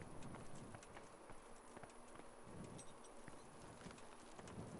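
A horse's hooves clip-clop at a steady walking rhythm in Kingdom Come: Deliverance, faint and distant against soft outdoor ambience with occasional bird calls.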